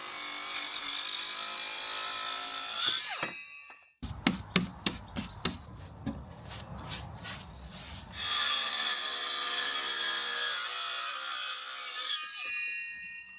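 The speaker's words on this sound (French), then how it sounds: "Une fois les planches posées, il me suffit de mesurer et marquer le débord pour le découper." Hand saw cutting through the overhanging end of a floorboard on a barn floor: a quick run of sharp rhythmic strokes, close and loud, set between stretches of steady background music.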